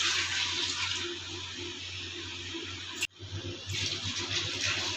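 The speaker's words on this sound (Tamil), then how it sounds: "இப்போ இதில் ரெண்டு பாத்திரம் தண்ணி ஊற்றப்படும்" Water pours steadily into a cooking pot for vegetable biryani with a rushing splash, pauses briefly with a clunk, then continues pouring, close and fairly loud.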